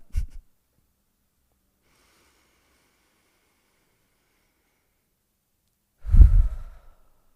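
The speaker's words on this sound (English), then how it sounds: "you'll just hear me breathe, and we'll take 10 breaths together" A person takes slow, deep breaths during a guided breathing exercise at a temple service. Two soft, close breaths are heard, one brief and one longer, separated by several seconds of silence.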